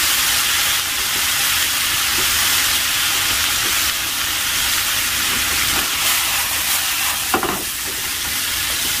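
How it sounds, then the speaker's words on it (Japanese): Yakisoba noodles with cabbage and liquid sauce sizzle steadily in a pan while being loosened and stir-fried, a continuous close frying hiss with a brief scrape near the end and no talking. "あとほぐしながら炒めてくって"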